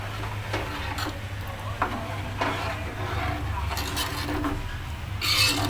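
Masala frying in a pan for a Konkani fish dish is stirred repeatedly, with a continuous close sizzle, a low steady hum underneath, and intermittent scraping strokes that grow louder near the end.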